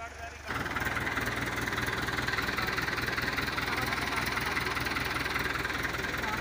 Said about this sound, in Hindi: लो जी हुण ट्रैक्टर के जोर देखो, जड़ा चू कढ़ के लै गया, जबरदस्त।